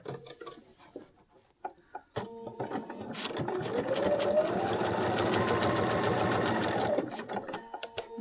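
After a couple of short clicks and a pause, a sewing machine starts and stitches a paper-pieced quilt block in one continuous, close, steady burst, then stops with a few light handling taps.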